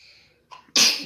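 A single loud sneeze bursts out close up after a short intake of breath.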